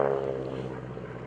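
A Blue Angels jet passes at an airshow with a broad, rumbling roar that is loudest at the start and eases slightly over a brief moment.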